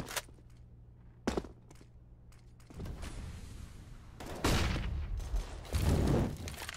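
Pistol gunfire in a competitive CS:GO match on the Mirage map: a few sharp, isolated shots early on, then louder, denser bursts of fire over a steady game background.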